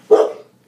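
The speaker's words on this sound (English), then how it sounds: "trying to figure out what my dog's barking at" A single loud, close dog bark bursts out sharply and fades within half a second, leaving quiet afterward.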